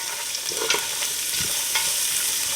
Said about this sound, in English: I'm going to add the celery in. Give it a stir.